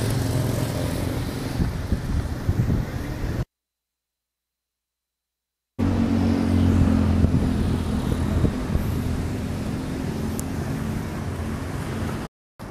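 An electric-converted Suzuki Address motorcycle is ridden, giving a steady rolling hum and road noise that cuts out for a couple of seconds midway before resuming.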